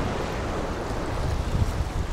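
Ocean surf rolling onto a beach on a remote Thai coastline, a steady broad wash of waves with wind buffeting the microphone, continuous and fairly loud with no voices.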